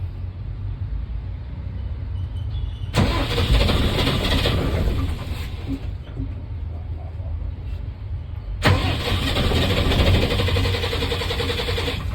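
A truck that had sat parked for four years runs after starting on a new battery, a loud, close, steady engine rumble that surges up twice in bursts of revving, with no talk over it.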